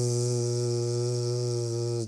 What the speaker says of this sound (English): And let it out with a buzz.